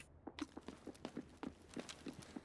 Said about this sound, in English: I definitely hear footsteps, but not sure if it's players.